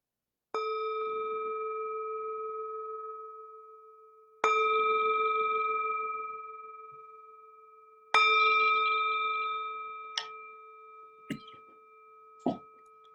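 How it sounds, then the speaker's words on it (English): A meditation bell is struck three times. Each clear, sustained tone rings out and slowly fades in a quiet room, followed by a few faint, short knocks. "The sound of this beautiful bell returns us to our true home."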